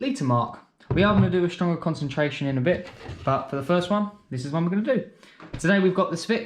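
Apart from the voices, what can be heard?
No everyday noises stand out.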